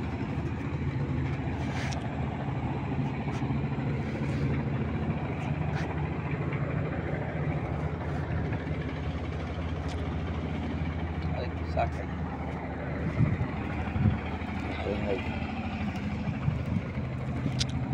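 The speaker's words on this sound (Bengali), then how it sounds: "বরিশাল ফিরোজপুর বগা ফেরিঘাটে আমরা এখন আছি।" An early-morning Boga ferry terminal at Firozpur, Barisal, with a steady low rumble of idling vehicle and boat engines and scattered clanks, while a person talks over the ambience throughout.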